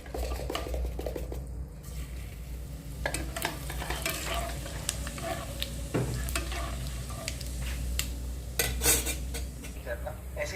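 Two bay leaves and whole raw cumin temper in hot mustard oil, giving a continuous close sizzle broken by frequent clinks and scrapes of a utensil against the pan.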